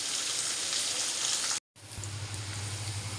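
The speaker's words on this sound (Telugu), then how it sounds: "ఉల్లిపాయ కూడా బాగా ఫ్రై అయిపోయినాయి మంచిగా." Onions fry in a pan for lemon rice, giving a steady close sizzle that cuts out for a split second and then resumes, with a low hum underneath.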